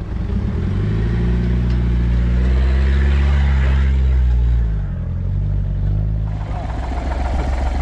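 A car engine revs hard as it struggles up a dirt track while the wheels spin, a loud sustained roar that dips and then settles to a lower drone.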